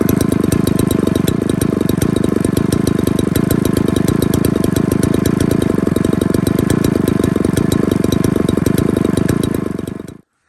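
An old chainsaw engine runs with excess fuel in its crankcase, a loud, rapid, steady putter close by that holds for about ten seconds and then cuts out abruptly, with no talking.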